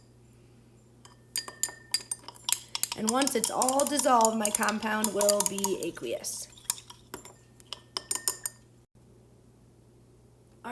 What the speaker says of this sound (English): Here's my glass stir rod.